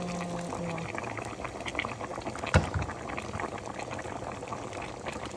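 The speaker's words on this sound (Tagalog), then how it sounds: "Habang kumukulo siya, lalagyan pa siya ng tubig." Steady bubbling of a pot of chicken adobo at a boil, a continuous burbling texture with one sharp knock partway through.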